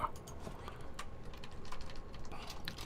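Rapid, irregular tapping on a computer keyboard, steady clicking keystrokes close by at moderate level, with no talking over it.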